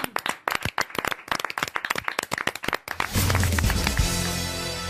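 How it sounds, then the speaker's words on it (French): Studio audience applause on a French radio-TV comedy panel show: a close run of sharp, uneven claps for about three seconds, then a burst of music with a sustained tone that swells and covers the rest. "Et on vous applaudit."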